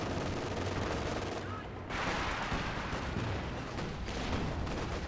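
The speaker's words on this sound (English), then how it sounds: "Mortar pit and stuff opening fire." Mortar pit fire in the strategy game Company of Heroes 2 on a 4v4 Essen Steelworks map, heard as dense continuous battle noise with overlapping booms and gunfire throughout.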